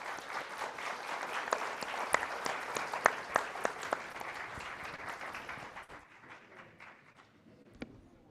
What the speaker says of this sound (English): one more round of applause for a great discussion